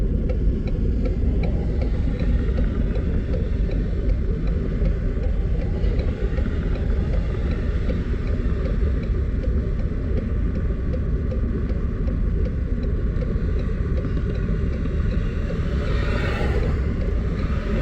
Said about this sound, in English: There are 10 engines in tow here on this manifest, heading north out of Sioux City area.